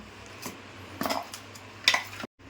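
A spoon scrapes and clinks against a pan while a sweet khaja mixture with jaggery is stirred, giving a few sparse, quiet metallic taps and scrapes close by.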